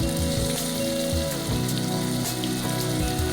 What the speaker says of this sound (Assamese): পিঁয়াজখিনি ৰঙচুৱা হোৱালৈকে লো ফ্লেমত অকণমান ভাজি লওঁ